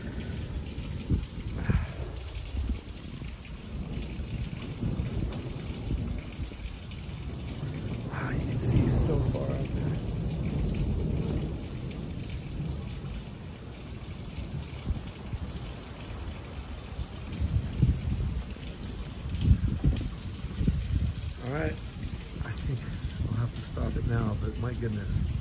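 A thunderstorm near Skyforest, California, close to Big Bear, heard from a hotel room: steady rain patters on surfaces while deep rolls of thunder swell and fade, and voices come and go over the storm.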